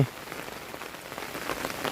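Steady rain patters on a surface nearby, a dense continuous hiss with scattered droplet taps, heard alone without voices.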